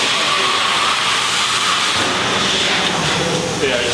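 A plasma cutter chops a car grill in a workshop, a steady loud hiss running continuously in the background while people talk.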